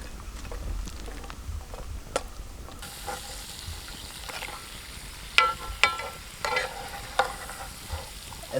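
Whole cashew nuts frying in hot oil, a soft steady sizzle with a few sharp clinks and scrapes of a spoon stirring the pan, close and fairly quiet, no talking.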